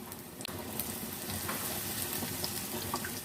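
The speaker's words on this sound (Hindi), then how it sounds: "एग पकौड़ा फ्राई हो जाए" Egg pakoras deep-fry in hot oil with a continuous close, bubbling sizzle and occasional crisp pops and light clinks, steady throughout with no talking.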